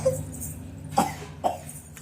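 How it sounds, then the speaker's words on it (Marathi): A person nearby gives two short, sharp coughs about half a second apart. The coughs stand out over a low, steady background hum. "अयो खोकला येतो का ग?"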